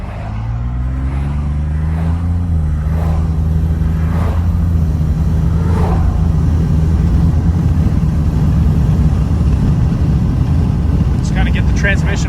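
Engine of a 2022 Ford F150 with the 3.5L turbo V6 under a light throttle pull, a steady low drone that rises slightly in pitch early then holds, close and constant, with a few faint tonal whines near the end.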